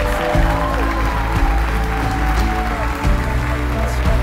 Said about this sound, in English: a big round of applause for Mr. and Miss Kemper